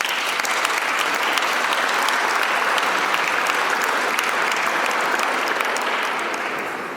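A party crowd gives sustained applause, a dense, even wash of many hands clapping together at a steady loud level that holds for several seconds before easing off slightly at the end.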